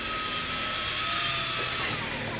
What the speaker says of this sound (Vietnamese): phải đo để khoan mấy cái lỗ mà để mình gắn hai cái cây vô á